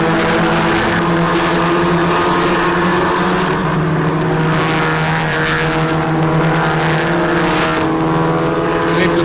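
Race car number 23 drones past on the circuit at the 2021 Indian National Car Racing Championship, a loud, sustained engine roar that holds steady throughout.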